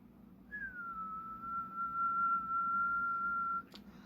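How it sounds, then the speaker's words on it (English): One steady whistled note is whistled into the microphone of a Uniden Grant XL AM/SSB CB radio, held for about three seconds over a faint low background hum. "I give it a whistle into the mic."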